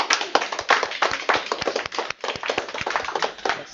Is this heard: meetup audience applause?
yes